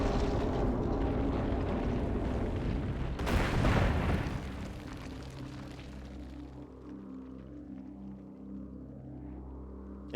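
A missile striking an unstable, damaged radion-based structure in Metroid Prime, heard as a loud booming blast that rolls into a long rumbling roar, then settles into a steady low game hum.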